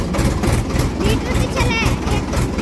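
A Ford 3600 tractor creeps slowly in second gear across a farm field, its diesel engine chugging steadily and continuously up close while someone talks over it.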